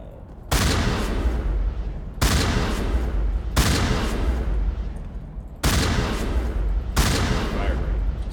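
Weapon fire from the Mass Effect video game, sustained bursts of rapid loud gunshots in several repeated volleys separated by brief pauses, with a voice talking over them.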